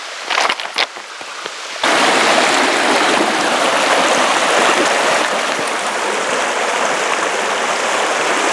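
East Fork River flowing steadily, a dense broadband rush of moving water that swells loud after a softer, choppier opening and then holds constant to the end, with no voices.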